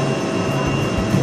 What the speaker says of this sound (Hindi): वहां पीछे जो है वो हेलीकॉप्टर उड़ रहा है